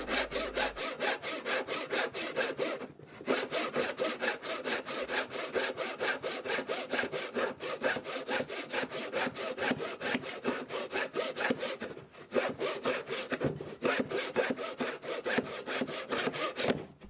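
A resharpened vintage handsaw cuts through wood in steady, rapid push-pull strokes, a continuous rasping rhythm heard up close with brief pauses, no talking.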